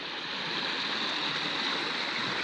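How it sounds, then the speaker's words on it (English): Black Mud Creek runs at about half its spring depth through woods with fallen trees, a steady broadband rush of flowing water heard up close with no voices. "This is the Black Mud Creek."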